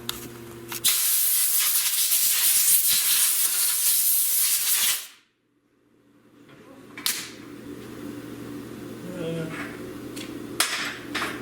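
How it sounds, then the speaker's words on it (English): A compressed-air blowgun blasts dirt off the top of a Malawi 110 engine in one loud, steady hiss of about four seconds, then cuts off, followed by quieter handling noises. "So let me go and get a blowgun, we'll blow the dirt off the top."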